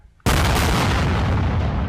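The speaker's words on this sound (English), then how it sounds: "For a second day, the guns boomed across the Thai-Cambodian border." Artillery guns firing across the Thai-Cambodian border during a border dispute, one loud sudden boom that opens into a sustained rumbling roar lasting nearly two seconds, with no talk.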